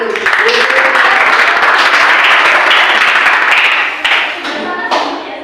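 Applause for a student named Arkana in a high school classroom during a teaching practicum, a dense, loud burst of many hands clapping that fades near the end, with voices mixed in.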